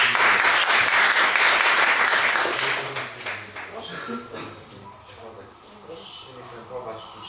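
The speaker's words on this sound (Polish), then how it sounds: "Brawa dla Gosi." An audience at a poetry and word festival event applauds for Gosia, loud dense clapping that tapers off after a few seconds as voices and talk take over.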